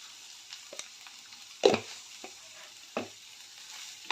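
A spoon stirs okra fry with onion-garlic masala in a pan, giving a soft steady sizzle broken by a few sharp scraping knocks, close and quiet, with no voices.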